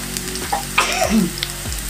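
Close sizzling of chilli, garlic and cumin frying in hot oil, with a few clinks of a spoon stirring the pan.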